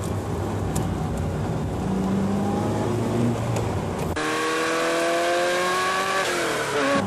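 A race car engine surges through a bit of wheel spin, then the tone drops sharply under hard braking. The harmonic whine is loud and close, and no one talks over it.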